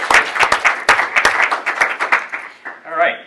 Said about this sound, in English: We could give them a round of applause to thank them for this.